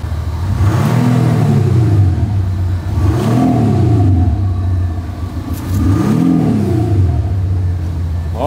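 A car engine revs hard and loud three times in a row, each rise and fall in pitch separated by short idle gaps, heard close up with no talk.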